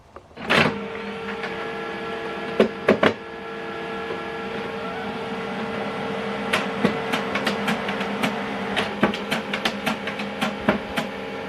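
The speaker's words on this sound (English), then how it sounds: "Switch this printer on from this button" An HP LaserJet Pro MFP 3302fdw colour laser printer powers on with a sharp click, then a low mechanical whir and hum, followed by a run of quick rhythmic clicks and ticks as it initializes.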